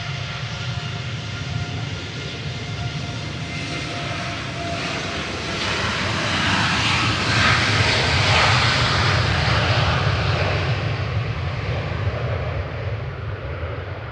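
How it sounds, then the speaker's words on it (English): A freshly repainted jet airliner departing Manchester Airport for Punta Cana, its engines a continuous roar that swells louder and brighter around the middle before easing slightly, alone with no talk. "Mrs. Patmore heading out to Punta Cana there with flight 168"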